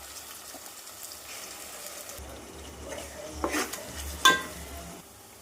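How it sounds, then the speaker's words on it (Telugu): Onions and ready-made masala are stirred in oil in a pan for a raw prawn gravy curry, soft scraping and shuffling under a faint sizzle, with a couple of louder clanks of the utensil near the end. "పెనం పెట్టేసుకొని ఆయిల్ వేసుకుందాం. ఉల్లిపాయలు, ముందుగా మనం రెడీ చేసుకుని పెట్టుకున్న మసాలా ఇప్పుడు వేసుకుందాం."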